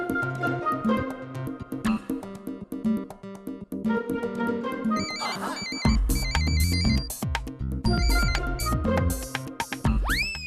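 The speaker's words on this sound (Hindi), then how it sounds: "अरे पप्पू, अच्छा हुआ जो तूने फोन कर लिया।" A telephone plays a melodic ringtone for an incoming call, the repeating tune sounding loud and clear and carrying through the whole stretch with no voices over it.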